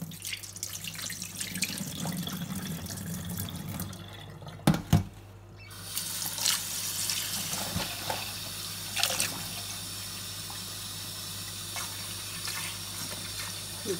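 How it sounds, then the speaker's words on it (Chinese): Tap water runs softly into a sink while seaweed is rinsed of sand, a faint steady trickle broken by a couple of sharp knocks and light splashes partway through. "就是把这沙子呀什么的给它洗一下就可以了"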